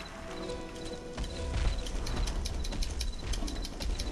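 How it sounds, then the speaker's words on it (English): Rapid hoof clip-clops of a horse in the video game Goat Simulator, a quick galloping patter mixed with game ambience and a faint whinny, continuous over a few seconds. "Now he's chasing after a horse."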